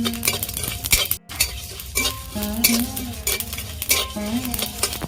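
Spiced masala with a little salt frying in a pan for jackfruit and prawn curry, heard as steady close sizzling with repeated spoon scraping and stirring clinks against the metal.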